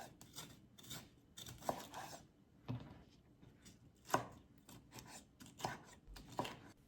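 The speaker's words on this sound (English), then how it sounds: "Now we're gonna dice our peppers the same way in large pieces." A knife chops peppers on a cutting board into large pieces, with about a dozen crisp, close cuts at an irregular rhythm and no talking.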